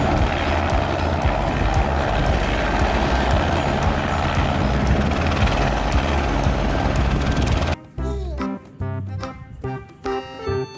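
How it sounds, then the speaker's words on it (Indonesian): A loud, steady rotor-like drone dominates for several seconds, then gives way abruptly to a choppier, tonal passage. "Wadidaw, lihat teman-teman, ada helikopter."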